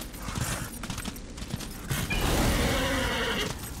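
A horse neighs in the Darksiders video game, a whinny rising over a busy, noisy game soundscape with clopping and mechanical clatter, steady and fairly loud throughout with no one talking.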